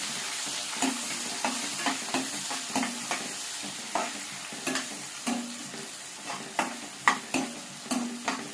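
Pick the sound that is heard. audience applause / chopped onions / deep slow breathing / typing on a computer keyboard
chopped onions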